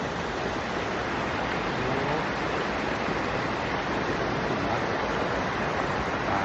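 Floodwater pours through a broken overflow weir into a flooded rice field, a steady, loud, broadband rush that continues without a break for the whole stretch and has no voices over it.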